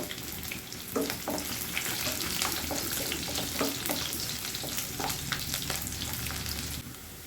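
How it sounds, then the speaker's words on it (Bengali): Garlic and ginger sizzling in mustard oil in a pan, a steady crackling fry with scattered pops and stirring, close and continuous with no voices. "এগুলোকে একটু সুন্দর করে সরিষার তেলে ভেজে নিব"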